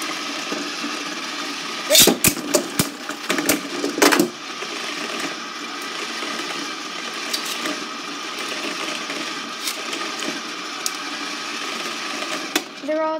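Beyblade spinning tops whirring steadily in a battle, with several sharp clacking collisions early on and a continuous buzzing spin, with people talking over it.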